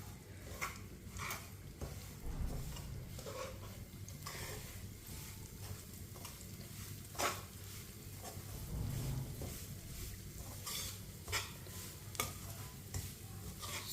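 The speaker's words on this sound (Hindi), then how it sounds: "1 प्याली सूजी डाल लेंगे। ऑयल में अच्छी तरह मिक्स कर लेंगे।" Semolina being stirred into hot oil for suji halwa, with spoon scrapes repeating steadily at close range over a soft sizzle and low kitchen hum.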